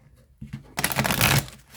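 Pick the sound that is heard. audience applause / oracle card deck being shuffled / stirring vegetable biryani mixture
oracle card deck being shuffled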